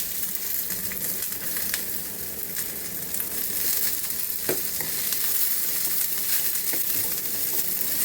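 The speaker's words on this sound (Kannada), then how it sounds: "ಎಲ್ಲ ಒಂದು ಸ್ವಲ್ಪ ಫ್ರೈ ಮಾಡ್ಕೊಳ್ತಾ ಇದ್ದೀನಿ ನಾನು" Onions with cloves, fennel seeds, cardamom and cashews frying in a pan for green peas kurma, giving a steady close sizzle with occasional stirring scrapes and clinks, without any talk.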